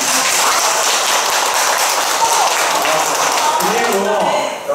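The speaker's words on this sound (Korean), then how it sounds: "이정현 선생님께 한번 박수 쳐주세요" An indoor audience claps for a teacher at a moss bonsai terrarium class in a temple hall, steady dense applause throughout that thins out at the very end.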